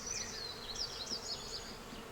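Agitated honey bees buzz loudly after a hive is dusted with powdered sugar against varroa mites, individual bees whining in and out close by over a continuous droning hum.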